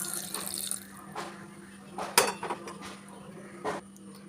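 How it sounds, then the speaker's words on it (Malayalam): Water poured into a mixed egg curry in a pressure cooker, giving a soft running trickle with a few sharper splashes and light clinks of a pot. "അതിലേക്ക് കുറച്ച് വെള്ളം ഒഴിച്ചു കൊടുക്കുക."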